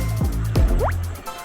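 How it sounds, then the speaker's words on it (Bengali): Washed taro stems left in a basket drip water, giving a few distinct, close, wet drops and splashes with a short gurgle in between and nobody speaking. "কিছুক্ষণ ঝাঁপিতে রেখে দিলে পানি একদম ঝরে যায়।"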